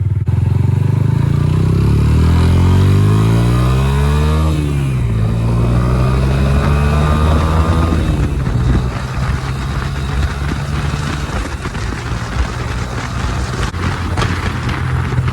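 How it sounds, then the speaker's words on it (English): Motor traffic near a petrol station, loud and close. A single engine revs up and then sweeps past, and steady road rumble with clattering continues after it. "There's so many cars about."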